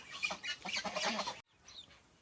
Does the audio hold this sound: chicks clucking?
yes